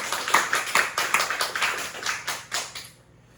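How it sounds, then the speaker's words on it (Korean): Congregation applauding inside a church, a steady run of claps in rhythmic bursts at moderate volume, trailing off into quiet after about three seconds. "우리 하나님께 감사와 찬송과 영광의 박수를 한번 드리겠습니다."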